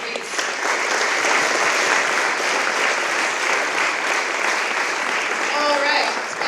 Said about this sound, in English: we can give you applause to push you through this morning